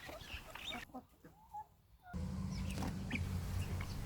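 A backyard flock of chickens, big hens alongside four-week-old chicks, gives soft scattered clucks and chirps at moderate distance over rustling and a low outdoor rumble.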